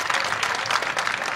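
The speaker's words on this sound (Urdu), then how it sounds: "پلیز آپ کی ذرا تالیاں ہونی چاہیے" Audience applause at an Urdu poetry conference, a steady, dense clapping from a crowd filling the whole moment without voices.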